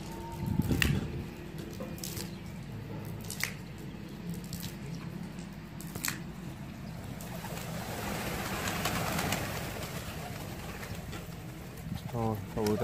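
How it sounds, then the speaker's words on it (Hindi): Pigeons kept for the sport of flying pigeons return to the loft and coo softly amid outdoor ambience, while a voice calls to them at times. "ओ कबूतर आ रहे हैं"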